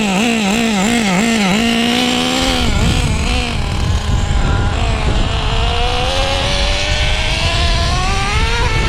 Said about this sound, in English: Idle is great. Look at that idle. Can't kill the idle.